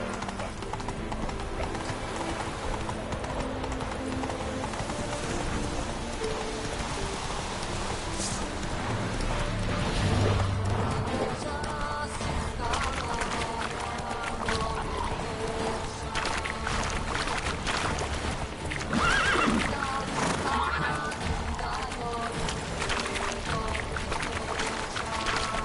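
Horse galloping with rhythmic hoofbeats and occasional neighs in the video game The Witcher 3: Blood and Wine, steady and close for the whole stretch alongside game ambience, no clear talk.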